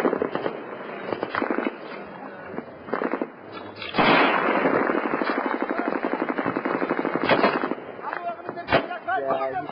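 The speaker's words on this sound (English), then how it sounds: "You hear the bullet. There's a lot of bullets. I mean, there's a lot of lead flying around." Heavy machine gun fire and rocket blasts at the Mazar-e Sharif fortress prison in Afghanistan: dense, rapid bursts of shots crackle almost continuously, with louder sharp reports standing out, heard at a distance through a narrow, compressed recording with a voice now and then.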